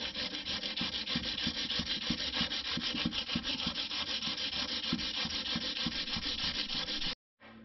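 A file is worked over the stainless steel boot trim of a Holden HT Monaro, making a steady, close, rasping scrape in quick repeated strokes that stops abruptly near the end.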